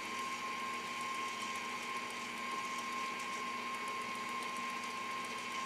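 An electric mixer churns creamy peanut butter into batter for Philly peanut butter balls, giving a steady, unbroken motor whir with a constant pitch and even loudness throughout.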